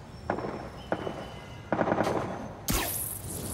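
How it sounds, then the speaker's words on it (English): Gunfire in Marvel's Spider-Man, several loud bursts of rapid automatic shots in an uneven rhythm, ending in a heavier blast with a ringing tail. "That is gunshots."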